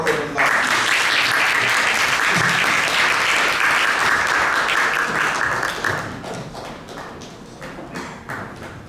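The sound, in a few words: audience round of applause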